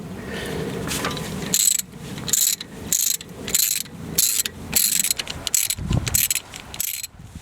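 Hand ratchet loosening the four bolts on a tractor's PTO cover plate, a series of sharp metallic clicking bursts in quick repeated strokes, close and fairly loud, with no talk.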